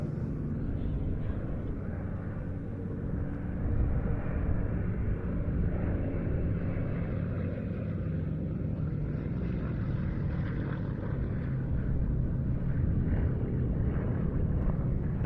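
Propeller display aircraft fly in formation back towards the display centre at the Duxford flying finale, a steady, loud engine drone and rumble that swells slightly and holds for the whole stretch without any talk.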